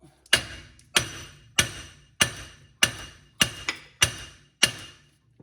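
Eight sharp metallic hammer blows land at an even pace, each ringing briefly before the next, as a front hub bearing is knocked out of a 2010 Town and Country in a quiet workshop.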